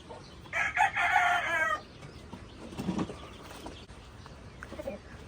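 Chickens and a rooster kept by an elderly man in a backyard coop: one loud, clear rooster crow near the start, followed by scattered softer clucks and low fowl noises.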